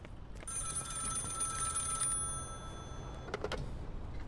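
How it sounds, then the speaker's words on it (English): A telephone rings in the Contraband Police video game, a steady electronic tone held for about two seconds, then a few sharp clicks and knocks near the end, with no talking. "We gotta get in here and answer the phone"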